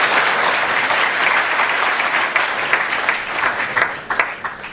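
Loud, dense applause from an audience after a poet's Hindi recitation at a live poetry event, a continuous wash of clapping that carries on throughout and grows slightly more scattered toward the end.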